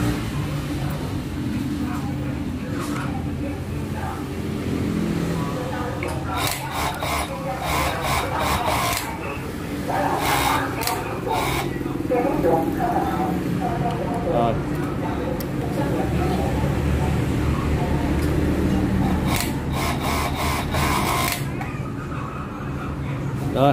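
An overlock sewing machine stitching steadily with upper and looper thread tension freshly adjusted, giving a continuous whirring rasp with brief bursts, with a voice over it.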